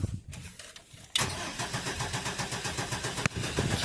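Chevy S10 Blazer with a built 4.3 engine, sitting in a shop for over 12 years, cranks with a rapid rhythmic chugging starter, then fires and catches into a rough, close idle.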